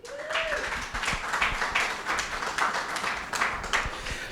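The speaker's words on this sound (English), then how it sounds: "Let's give them a round of applause." Audience applause following thanks to a sponsor at a panel event on DEI, a steady wash of many hands clapping at moderate distance, continuous for several seconds with no speech over it.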